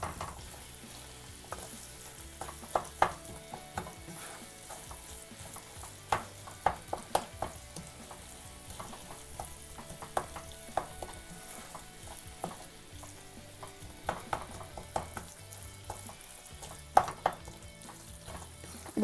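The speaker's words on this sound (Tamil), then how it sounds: "நல்லா இந்த பன்னீர் வந்து இந்த மசாலாவோட நல்லா மிக்ஸ் பண்ணுற மாதிரி ஃபுல்லாக நல்லா கலந்து விட்டுருங்க." Paneer masala sizzles steadily as it fries in a pan for a street-style dosa, with frequent clinks and scrapes of a spatula stirring the mixture, close and moderately loud, with no talk.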